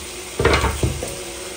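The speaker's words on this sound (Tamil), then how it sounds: "தக்காளி பழம் சேர்த்து வதக்கிடலாம்." Tomatoes drop into a hot pan of sautéed ginger-garlic paste, giving a sudden loud sizzle followed by a couple of scraping stirs as the frying settles down.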